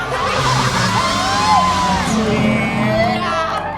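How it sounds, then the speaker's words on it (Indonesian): A television studio audience cheers, whoops and shouts loudly and continuously on a Indonesian variety show set, a dense crowd roar with scattered yells throughout. "kita berikan tepuk tangan juga buat Mama Ratna"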